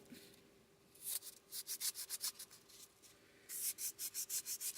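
An upcycled mixed media bracelet rubbed with old, worn-out sandpaper, giving close, quiet rhythmic bursts of scratchy sanding strokes in two runs, about a dozen strokes each, with a brief pause between.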